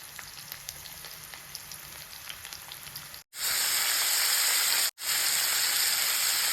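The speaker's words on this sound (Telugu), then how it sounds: "తిరిగి పోపు పెట్టుకున్న తర్వాత దీంట్లో ఆనియన్స్ వేసుకోవాలి." Onions frying in hot tempering oil for a bottle gourd curry, a steady close sizzle that suddenly grows much louder and brighter after a brief cut, with no talking.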